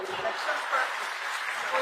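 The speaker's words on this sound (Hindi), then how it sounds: "एक बार ताली बजा दीजिए इनके लिए" Audience applause at a hospital silver jubilee celebration in Kochi, a dense, even wash of clapping from a large crowd lasting the whole moment, moderately loud and steady.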